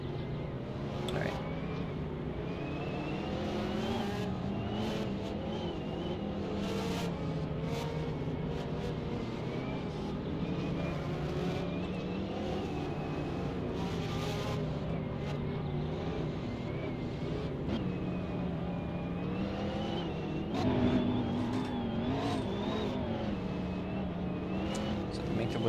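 Race cars at a GT racing series Italian Grand Prix round running together behind a pacing lead, a steady layered drone of engines with shifting pitch, someone talking over it on radio throughout.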